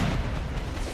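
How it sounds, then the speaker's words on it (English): Artillery cannon fire in an American Civil War strategy game, a continuous low rumbling of overlapping booms from a battery firing, steady and loud throughout with no distinct separate shots. "We have opened fire on the battery"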